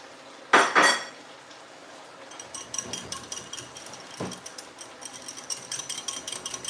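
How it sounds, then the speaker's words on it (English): Jackfruit pot roast ingredients are whisked together in a bowl, with a run of quick, rapid metallic tapping and scraping against the bowl after two louder clatters at the start, close and clear with no talking. "Let that whisk up together."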